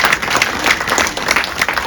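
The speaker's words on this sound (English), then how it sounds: "I'm gonna bother y'all for one more round of applause" Audience applause after a speaker hands the floor to a director, a dense, steady wash of many hands clapping close and loud for the full stretch, with no talk over it.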